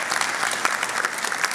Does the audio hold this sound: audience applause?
yes